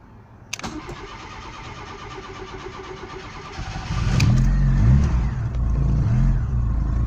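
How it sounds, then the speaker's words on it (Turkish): Car engine starting after the starter motor was removed, cleaned and refitted: a steady whirring crank for several seconds, then the engine catches with a loud roar and settles into a rough, throbbing idle, no voices. "Arabamızın marşına basalım"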